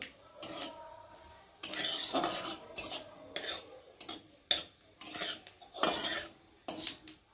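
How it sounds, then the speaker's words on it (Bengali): Cumin seeds frying in hot oil in a kadai, heard as light sizzling broken up by frequent clinks and scrapes of a spatula against the pan, fairly quiet with no talking. "জিরে ফোড়ন দিয়ে তেলটা একটু ভালো করে গরম করে জিরেটা একটু ভালো করে ভেজে নেব"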